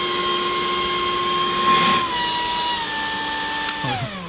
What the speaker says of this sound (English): The noise you just heard is actually me getting too close to my pants, and it sucked my pants into the intake.